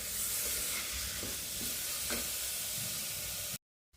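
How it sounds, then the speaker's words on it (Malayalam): Tomatoes sauté in a hot pan, giving a steady loud sizzle with occasional stirring scrapes that continues for several seconds and then cuts off abruptly. "തക്കാളി നല്ലപോലെ ഒന്ന് വഴറ്റിയെടുക്കാം."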